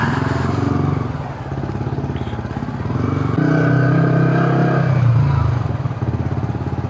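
A freshly washed motorcycle ridden along a city road toward Tebet Raya, its engine a steady loud close drone that rises and falls with throttle, mixed with wind and road noise and light talk from the rider.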